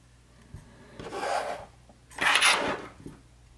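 An antenna is screwed onto the receiver of a CloudVocal ISOLO GT-10 wireless guitar microphone system, giving two close, soft rasping turns with a pause between them over quiet room hum.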